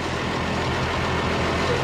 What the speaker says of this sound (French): Le moteur marche à nouveau.